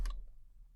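A single sharp computer mouse click, close and quiet, quickly decaying into near silence.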